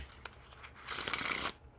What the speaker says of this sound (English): pretty smooth Riffle Shuffles and Bridge Shuffles